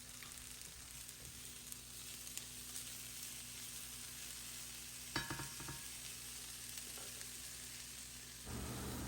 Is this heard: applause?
no